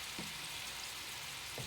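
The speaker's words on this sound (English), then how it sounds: "It seems my 2-pound chicken has to be fried in 2 batches." Two pounds of chicken frying in a pan for chicken tikka masala, heard as a faint, steady crackling sizzle throughout with occasional soft pops.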